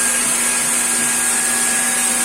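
The high-pressure pump of a 500 LPH RO water plant runs with a steady, loud mechanical whine and hum, constant and close, with no voices.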